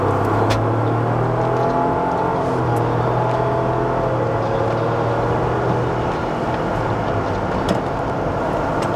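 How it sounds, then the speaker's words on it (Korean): Ford Bronco accelerating in sport mode, a steady, loud engine drone with rising harmonic tones as it gathers speed, heard from inside the cabin with road and wind noise throughout and no talking. "이게 스포츠 드라이빙이 가능하다니까요. 엔진 출력이 워낙 세다 보니까."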